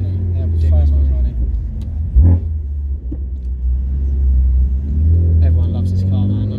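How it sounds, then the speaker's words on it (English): A BMW M4 engine idles with a deep, throaty exhaust rumble, briefly blipping louder, while someone talks over it. "that exhaust sounds sick"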